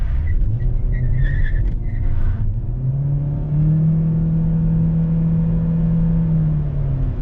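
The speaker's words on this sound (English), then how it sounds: "But let's accelerate again from a dig." A 2017 Chevy Malibu Hybrid pulls away hard from a standstill on a damp road, its engine drone rising in pitch and then holding a steady, loud whine as speed builds, heard from inside the car.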